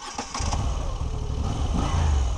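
A Moto Guzzi V85TT's transverse V90 twin starts, then settles into a loud, close, steady throb with an uneven rhythmic pulse.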